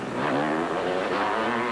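A Suzuki freestyle motocross motorcycle at the 2001 X Games revs hard in one continuous, loud, close burst, its engine note wavering up and down with no talk over it.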